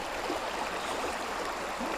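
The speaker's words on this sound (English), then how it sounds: "Got our aerator going" Aquarium aerator bubbling in a bait bucket of water outdoors on a fishing trip, a continuous close fizzing and gurgling hiss without pause.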